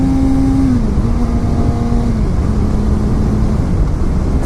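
A 2016 Suzuki GSX-R600 sport motorcycle held near 8000 rpm in third gear on a highway, a steady loud engine drone buried in heavy wind rush, pitch dipping slightly partway through.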